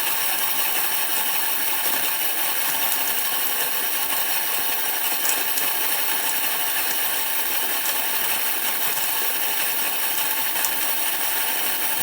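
Coffee beans being ground in a grinder, a steady, fairly loud gritty whirr with fine rattling texture that stays even from start to finish.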